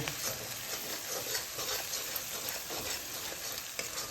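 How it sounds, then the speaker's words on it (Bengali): Turmeric, Kashmiri chilli powder and salt sizzle steadily in hot oil in a pan, a dense, continuous frying hiss with soft scraping from stirring throughout, close and alone with no talk. "আস্তে আস্তে করে কষিয়ে নিতে হবে মশলাটা"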